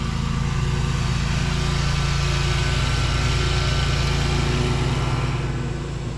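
A lawn mower runs steadily at full throttle through overgrown grass at an abandoned country house, giving a loud, close, continuous engine drone that barely changes from start to finish.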